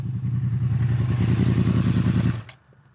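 A loud Yamaha R1 sport motorcycle engine drones steadily nearby, then cuts off abruptly near the end, leaving quiet.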